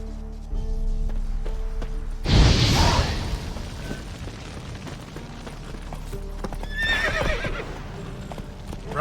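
Roach the horse gallops in Witcher 3, rhythmic hoofbeats pounding on after a heavy thud and a brief whinny partway through, with clattering movement and ambient game sound around it.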